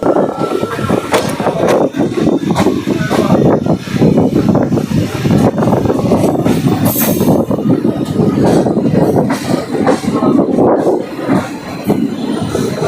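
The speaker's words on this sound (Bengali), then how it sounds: "দেখুন খুব আঁকা পাকা হয়ে ট্রেনটি ঢুকছে নিউ ময়নাগুড়ি স্টেশনে" A local train entering New Moynaguri station while crossing from the main line to the platform line, with loud, continuous rumbling and rhythmic wheel clatter from on board for nearly thirteen seconds, plus brief high squeals.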